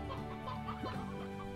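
A chicken in the video game Slime Rancher clucks in a few short, low calls over a steady humming game background, with no voices.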